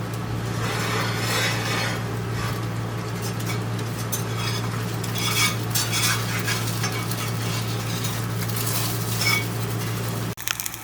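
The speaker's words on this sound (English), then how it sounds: "So let's flip this egg over." An egg fries in a pan with a steady, close sizzle throughout, with light scraping and clinks as it is flipped, and a brief clatter near the end.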